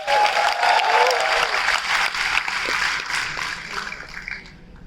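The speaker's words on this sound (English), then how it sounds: "Let's hear a huge round of applause for Yassine Abukar." An audience at a hacker conference keynote applauds an award winner with loud, dense clapping that holds steady and then gradually thins and fades toward the end.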